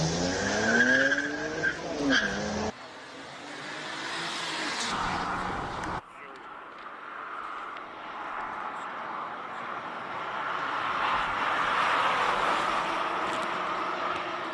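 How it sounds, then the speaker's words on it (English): A Volvo C30 T5R race car climbs a hill course at a hillclimb event, its engine droning and building in pitch over several seconds with tire noise, heard at a distance beneath commentary and crowd ambience. "Little Volvo C30 all the way up the hill."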